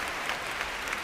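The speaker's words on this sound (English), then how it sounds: "And a good reception from the crowd." A crowd at a 2005 European Standard ballroom dance championship in Russia applauds, dense and steady clapping filling the hall at a loud, even level for a moment.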